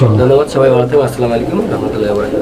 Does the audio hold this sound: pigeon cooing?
yes